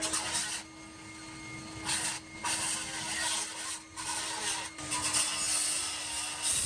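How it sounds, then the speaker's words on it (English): A hand saw rasps back and forth through a wooden door frame in uneven bursts with short pauses, close and moderately loud. "we went from the grinder to this saw to cut out this thing"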